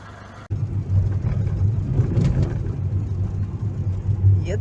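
A car is driving on a cold day, heard from inside the cabin as a steady, fairly loud low engine rumble and road hum that starts abruptly after a brief quiet moment and continues throughout.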